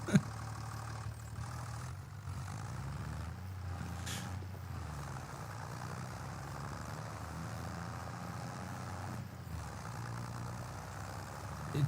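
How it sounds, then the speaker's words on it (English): A tractor engine labors under load with a steady, deep drone and low mechanical hum that hold for about twelve seconds, moderately loud and continuous with slight fluctuations, and no voices. "Come on, Tractor. You can do it. Holy smokes, this thing is really trying hard."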